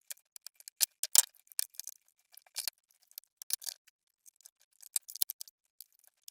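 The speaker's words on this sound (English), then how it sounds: "Now where possible I'm cutting away from the belt." Scissors snip repeatedly through hair wound on a Dyson DC14 vacuum brush bar, giving a quick irregular run of small, close, crisp clicks against near silence.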